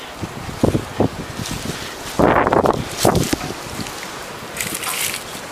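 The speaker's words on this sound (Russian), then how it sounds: "У нас сильный ветер. Очень сильный ветер." Strong gusty wind in an outdoor vegetable garden, roaring in bursts with rustling and flapping, loud gusts rising and falling, heard alone with no talk.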